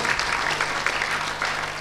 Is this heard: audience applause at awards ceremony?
yes